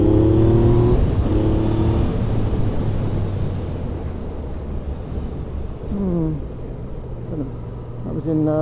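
A Yamaha MT-09 motorcycle pulls hard through the gears on a test ride, its engine note rising in clear sweeps under steady wind rush, easing, then climbing again.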